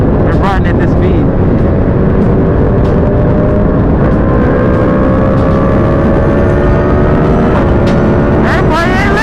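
A 2020 Yamaha MT-10 motorcycle under throttle, loud steady engine drone with rising pitch and heavy wind roar throughout, a rider's voice mixed in.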